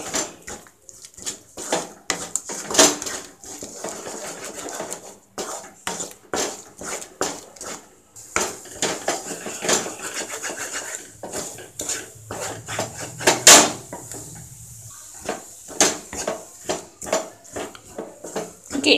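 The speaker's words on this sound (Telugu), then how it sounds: "కలుపుకుంటూ వేయించుకుంటే మనకి బాగా మిక్స్ అవుతుంది" Egg bhurji with chilli powder, sambar powder and garam masala is stirred in a pan, a spoon scraping and clanking against the metal in frequent sharp knocks, with a soft fry underneath.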